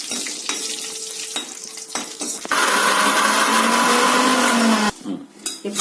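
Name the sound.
mixer grinder blending tamarind and tempering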